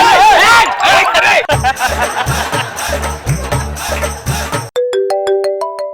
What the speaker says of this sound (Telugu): క్రాంతి ఫోన్.